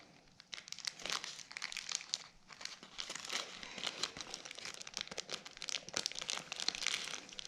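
Origami paper crinkles and rustles continuously as it is creased into a valley fold, with close, soft crackling and brief scraping sweeps of fingers pressing along the crease.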